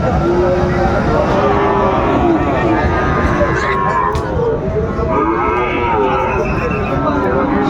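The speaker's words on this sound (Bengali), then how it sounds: "শাইওয়াল বাচ্চা" A Sahiwal bull calf at a farm in Bogura moos over and over in long, drawn-out calls, close and loud, with voices murmuring in the background throughout.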